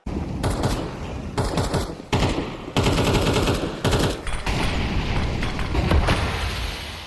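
Rapid bursts of pistol fire from a Counter-Strike 2 match between MOUZ and Vitality at IEM Chengdu, loud crackling volleys broken by short gaps, with booming impacts among the shots.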